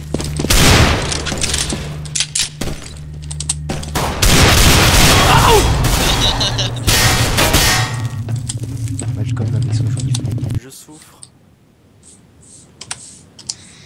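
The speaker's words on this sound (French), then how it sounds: "C'est le flingue mitraillette." Rapid submachine gun bursts in the CS:GO shooter, dense rattling fusillades with clangs and keyboard clatter, loud for about ten seconds before dropping to sparse clicks.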